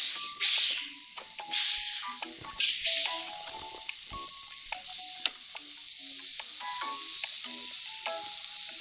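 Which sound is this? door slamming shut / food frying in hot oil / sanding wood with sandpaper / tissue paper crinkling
food frying in hot oil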